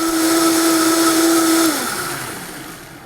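A countertop blender whirs loudly on high, pureeing tomato cream soup with a steady high-pitched motor whine, then the pitch drops and the sound fades as the motor spins down and stops.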